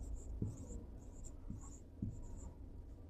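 Chalk or marker scratching on a board during a chemistry lecture on resonance, short faint strokes and taps close by in a quiet room with no talking.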